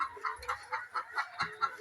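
Laying hens cluck in a soft, steady rhythm of repeated calls, faint and somewhat distant, with no talking.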